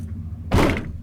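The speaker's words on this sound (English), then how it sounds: "let's go ahead and shut the door" A single solid door slam from a 2003 Chevrolet Silverado 2500 WT pickup, a heavy thunk with a short rattling tail, close by over a low engine-like hum.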